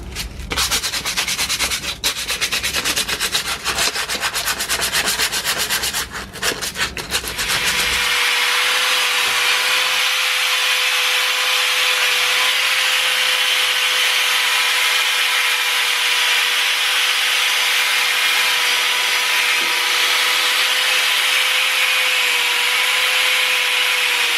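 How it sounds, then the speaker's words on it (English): Sandpaper scrubs surface rust off brake caliper brackets by hand in a steady, close, continuous rasping rub, harsher and more gritty for the first several seconds, then a smoother hiss with a faint tone underneath. "use some sandpaper and some brake cleaner and just try and remove any of the surface rust"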